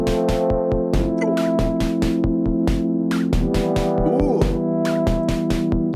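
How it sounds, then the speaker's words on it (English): Moog Labyrinth synthesizer paired with other semi-modular synths plays a steady sequenced pattern with punchy pulsing bass notes, bright percussive hits and sustained harmonic drones, loud and continuous throughout. "You can pair it with other semi-modular synths to sound like this."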